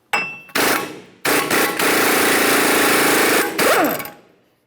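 An impact gun spins a 36mm socket to remove the rear axle nut on a GMC Acadia, delivering loud, sustained bursts of rapid hammering separated by short pauses, close to the mic.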